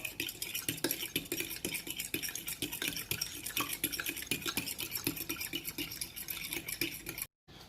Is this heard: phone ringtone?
no